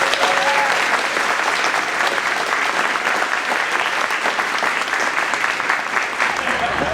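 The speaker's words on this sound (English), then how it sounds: "So please give me a round of applause for Isabella." An audience at a Veterans Day program claps for a contestant, producing a dense, even wash of applause that holds at a steady loudness throughout.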